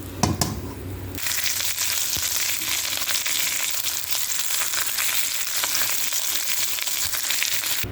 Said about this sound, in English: Keep doing this until, all your lambs are finished searing.